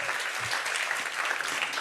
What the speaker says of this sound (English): Ravit Turjaman, she's been a part of this family, and applause.